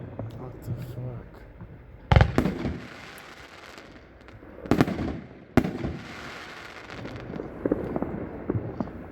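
Consumer fireworks go off at a product demonstration. Loud, sharp bursts and crackling shots come one after another, with quieter gaps between them. Background noise and voices from the crowd continue throughout.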